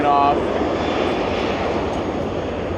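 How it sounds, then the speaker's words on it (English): Airplane taking off at Charlotte CLT airport during runway construction, a broad steady engine roar at moderate distance that fills the clip, with a faint voice briefly at the start. "That's a plane taking off"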